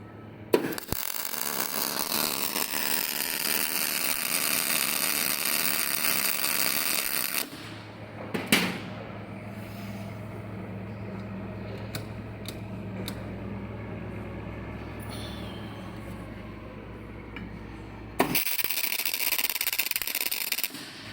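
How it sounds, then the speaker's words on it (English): Miller Migmatic 273 compact MIG welder laying a test weld: two long, loud, steady crackling buzzes of arc, broken by a quieter stretch with a low hum and a few clicks between them. "This machine however is functioning fine. A quick weld test."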